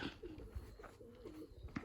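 Pigeons cooing in a pigeon loft, soft repeated low coos rising and falling over a faint background, with a few brief rustles and no talk.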